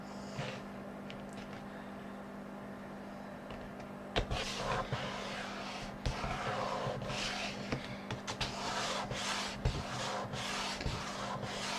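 Paper being burnished flat along a glued mountain fold of a handmade folio, heard as quiet, steady rubbing with a few sharper taps and scrapes, close and faint with no talking.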